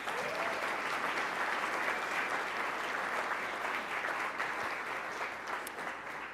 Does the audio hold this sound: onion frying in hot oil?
no